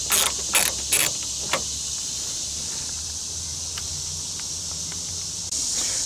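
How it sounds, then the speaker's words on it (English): A ratchet clicks in a few quick bursts while loosening 11mm nuts on a 2004–2006 Ford F-150 side mirror, followed by a steady low mechanical hum. "It takes 11mm to loosen the mirror up with 3 nuts"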